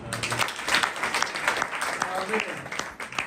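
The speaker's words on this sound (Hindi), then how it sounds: "अब ताली दे सकते हैं।" A congregation at a church convention claps in a loud burst that continues throughout, mixed with voices.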